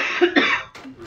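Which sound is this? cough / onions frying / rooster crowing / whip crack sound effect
cough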